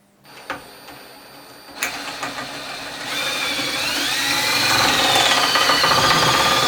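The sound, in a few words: drill cutting through rubber and metal of trailing arm bush, Alfa Romeo 105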